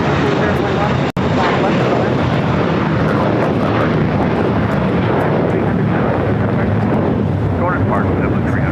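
A JetBlue Airbus A321 jet takes off at LAX bound for Fort Lauderdale, a loud, steady broadband engine roar held throughout with some wind buffeting and a brief dropout near the start.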